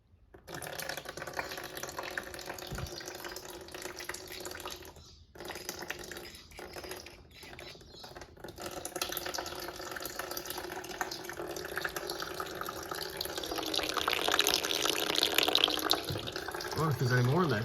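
Fluid, partly water, draining from the filler plug of a Toyota MK3 Supra with a 1GG engine, a steady trickling pour that grows a little stronger toward the end, with faint clatter and quiet talk around it.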